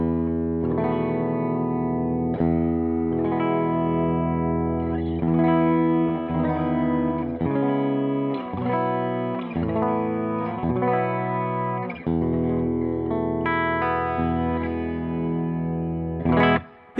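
A Fender Kurt Cobain Jag-Stang electric guitar played through its humbucker pickup rings out overdriven chords and riffs with a thick, distorted tone, strummed in bursts over about seventeen seconds, close and without talking, ending in a short noisy squeal.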